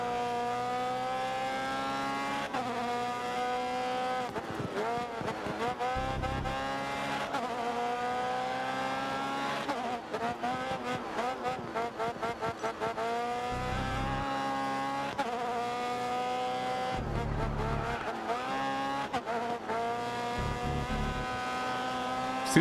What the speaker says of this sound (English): Still surprised on how much these cars drift.